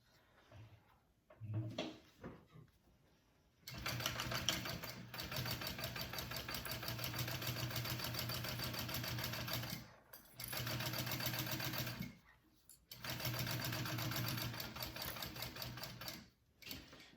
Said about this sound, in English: I'm gonna do 4 lines of stitching on my handle because I like the way that looks